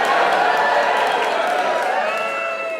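A comedy-club audience cheers and roars in a loud, dense wash of crowd noise that holds steady for a few seconds before easing off slightly.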